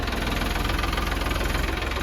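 A used Eicher 480 45 hp tractor with only 150 hours of running and in fresh condition idles steadily close by, its diesel engine throbbing in an even, rapid pulse with no talk over it.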